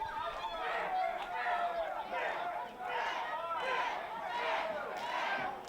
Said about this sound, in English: You can hear the crowd chanting his name.